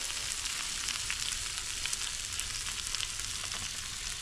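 Eggs sizzling steadily in a pan over an outdoor fire in a forest, a continuous close crackling fry with small pops, no voices.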